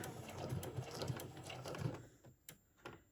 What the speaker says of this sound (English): I'm just going to slowly sew over where my ribbon is.